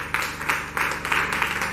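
Brief burst of audience clapping at a girls' school contest show, dense and fairly close, rising in several quick swells over a faint steady hum.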